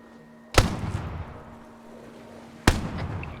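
Two loud, sharp gunshots in an SCP flood operation game, spaced about two seconds apart, each with a booming low tail over a quiet steady hum.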